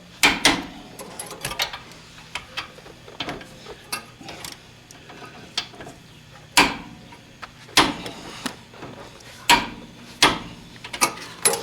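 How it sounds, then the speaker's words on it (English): Torque wrench ratcheting in repeated short bursts while tightening brake bolts on a 2006 Mercedes 300D, close and clear over a quiet background with no talk. "We're going to torque these down"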